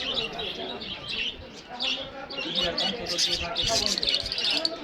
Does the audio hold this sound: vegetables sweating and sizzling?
no